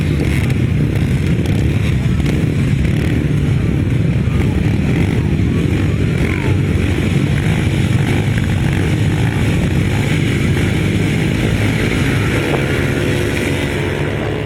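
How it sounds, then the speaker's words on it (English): Classic 250cc grasstrack motorcycles rev loudly and continuously on the start line of a race heat, a dense raspy engine roar lasting throughout. "Revving up the way then with his first heat then of the Classic 250s, looking at Chris Mack"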